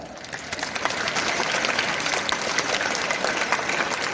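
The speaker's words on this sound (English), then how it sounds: "Have a huge round of applause for her." Audience applause at a school farewell event at a convent school, a steady wash of many hands clapping throughout, fairly distant and even, with no talk over it.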